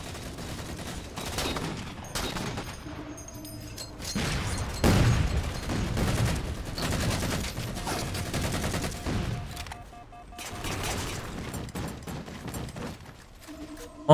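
Rapid bursts of gunfire from a sniper rifle and other weapons in the video game Anthem, a dense run of sharp shots and booms across the whole stretch.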